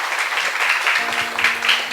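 Congregation clapping during a Hindi church service, a brief burst of steady, fairly loud applause from a crowd, with a low voice briefly underneath.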